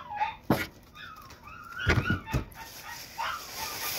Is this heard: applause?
no